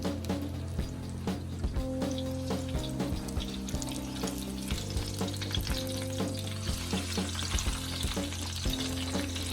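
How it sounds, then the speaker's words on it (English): Salmon fillet pan-searing at medium heat, giving a steady, close sizzle with small pops and crackles, under a tonal background hum. "I'm just gonna cook my salmon for 4 minutes on the first side and then flip it over"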